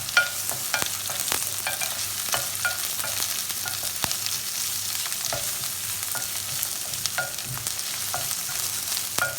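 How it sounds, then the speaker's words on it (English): Garlic and onion sauté in a hot pan for curry chicken, a continuous close sizzle broken by sharp scraping clicks of a stirring spoon at irregular intervals, with no voices. "and the garlic. And we just want to saute this for a few seconds."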